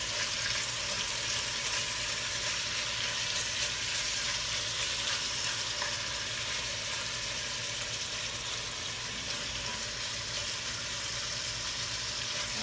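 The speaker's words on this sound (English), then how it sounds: "I'm gonna get a little sear on it." Chunks of beef searing in a hot pot for an old-school stew give off a constant, even sizzle that holds at the same level from start to finish, with no one talking.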